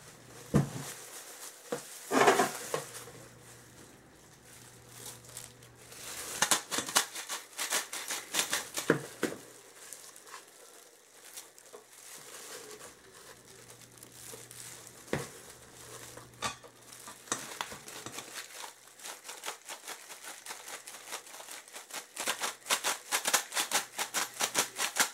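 Bath bomb powder being stirred and mixed, giving soft, faint scraping and gritty patter with occasional sharper clicks of a utensil against the bowl, close and quiet throughout.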